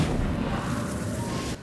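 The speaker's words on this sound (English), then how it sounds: "Ooh, look at all those explosions!" Fire-triggered explosions from the PS5 video game Genshin Impact form a continuous, loud, booming rumble with dense crackle throughout, with no voice over it.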